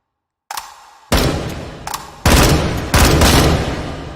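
Assault rifle in a VR shooting game fires in burst mode, loud sharp bursts of shots coming in several separate groups with short gaps between them, and nobody talking over them.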